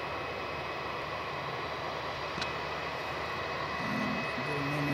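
An ATR turboprop from Wellington going around, a steady, loud engine drone sustained throughout, with a brief click midway and a rising tonal hum joining near the end.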